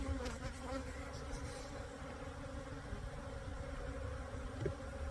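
Honey bees in an opened, agitated hive drone in a steady, dense buzz that stays close and continuous throughout, with no talking.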